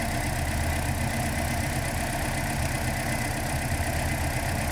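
A 2012 Toyota Corolla engine idles roughly during misfire diagnosis, a constant, close, low rumbling drone that stays steady without any speech.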